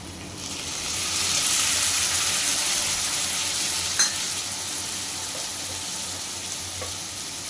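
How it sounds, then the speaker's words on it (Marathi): Water hits a hot pan of stuffed pointed gourd in a Maharashtrian bharlela parwal dish, giving a steady hiss and sizzle that swells after the first second. A small clink comes near the four-second mark, with no talk. "पाणी टाकणार आहे, जास्त नाही."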